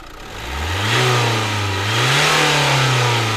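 2015 Nissan Juke 1.5 dCi diesel engine with a loss of boost and flat performance, revved once with the top left off: a close, loud surge rising and holding, dipping briefly and climbing again.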